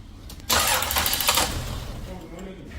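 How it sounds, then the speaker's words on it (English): A Lexus ES 300 engine cranks and catches abruptly, settling into a steady idle close to the microphone; a faint voice is present under the engine noise. "When you start the car, it charged 14 points."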